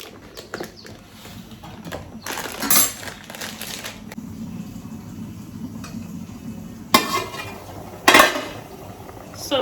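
A soup pot of oha and vegetables is stirred and covered: scattered metallic clinks and scrapes of a spoon against the pot, then two sharp lid clanks near the end over a faint low simmer.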